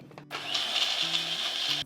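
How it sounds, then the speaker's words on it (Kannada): A mixer grinder blends boiled carrot and almonds with a steady, high, whirring motor drone. It spins up after a short tap and runs continuously to the end, with no talking. "ಚೆನ್ನಾಗಿ ಮಿಕ್ಸಿ ಮಾಡಿ"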